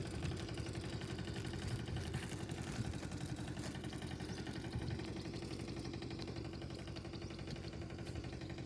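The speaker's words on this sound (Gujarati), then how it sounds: "આ મોટું ખેતર છે, એમાં મોટું ટ્રેક્ટર ચાલુ કર્યું" A big tractor engine runs steadily in a large farm field, a low, even mechanical rumble that stays constant and fairly distant, with no talk.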